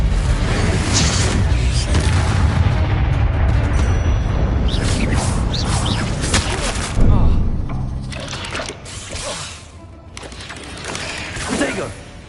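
Confringo spell blasts go off in the video game Hogwarts Legacy as loud crackling bursts and booms with whooshing debris, dense at first and then thinning out, with voices over them.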